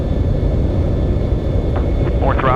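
C-17 Globemaster III jet engines throttling up during a low-altitude Veterans Day flyover, heard from the cockpit as a dense, steady roar with faint brief voice traces near the end.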